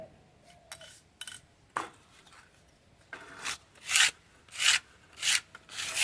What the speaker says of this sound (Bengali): এবার শুকনো লঙ্কা বেটে নেব